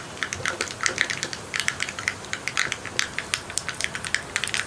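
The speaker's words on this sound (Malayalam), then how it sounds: "നമ്മുടെ കടുക് പൊട്ടി തുടങ്ങുന്നുണ്ട്." Rapid irregular crackles and pops of mustard and fenugreek seeds spluttering in hot oil for pulissery curry, a continuous dense pattern of sharp little bursts.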